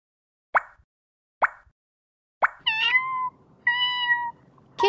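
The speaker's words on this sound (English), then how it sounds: "Kitten." Cartoon kitten meows in a preschool shape-puzzle app: two short close mews, then two longer tonal meows over a soft backing hum, ending on a brief sound cue.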